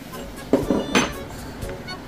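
Small metal bolts and nuts from a motorcycle passenger grab rail kit for a Honda ADV160 clink and rattle together in a few brief, close metallic taps, with quiet handling in between.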